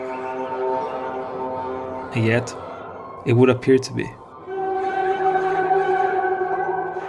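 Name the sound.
Yaybahar, an acoustic instrument that sounds electronic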